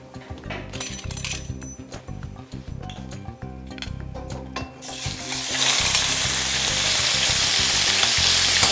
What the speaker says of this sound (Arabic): باش نقلو الصدر تاع الدجاج